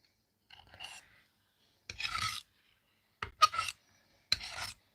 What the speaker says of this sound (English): I'm going to scrape it.